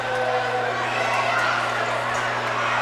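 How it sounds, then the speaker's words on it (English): Crowd at a high school basketball game rising in reaction from the Eagles section, a steady wash of shouting and cheering voices over a constant electrical hum in the gym. "Some crowd reaction happening here, I believe, from the Eagles side of the section"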